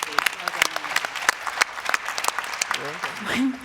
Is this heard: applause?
yes